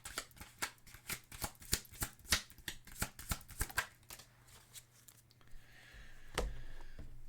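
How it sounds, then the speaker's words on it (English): Tarot cards being shuffled by hand: a quick, even run of crisp riffling snaps, close and quiet, then a pause with a single card slap and soft rustle as one is drawn, no talking. "So let's get another card here."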